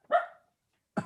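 A dog gives two short barks, the first a clear mid-pitched bark and the second clipped at the end, with a silent gap between them and no talk over either.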